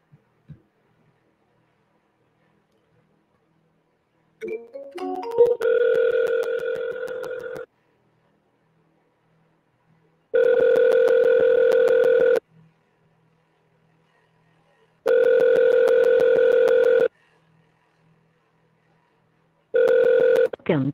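A call to a landline telephone rings out as a steady electronic ringback tone. It comes in repeated bursts of about two seconds with pauses between them, clear and fairly loud, after a brief burst of dialing noise.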